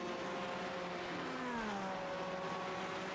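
A Minardi Formula 1 car with a 72-degree Cosworth V10 drones steadily in a racing game, its high, continuous engine whine shifting pitch slightly as the car holds speed.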